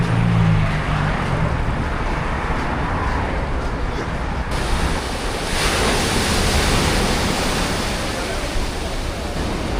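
Ocean surf washes below cliffs as a steady, loud, broad roar, mixed with wind buffeting the microphone, and a voice is briefly heard at the start.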